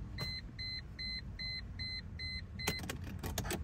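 A US-spec Mercedes-Benz W210 sounds its key-in warning chime, a quiet repeating two-tone beep pulsing about seven times in steady rhythm inside the car, followed by faint clicks.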